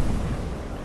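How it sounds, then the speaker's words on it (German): Gunfire in the video game Fortnite, a dense booming burst of shots and low rumbling impacts filling a brief, loud moment with no voices. "Wieder Schüsse."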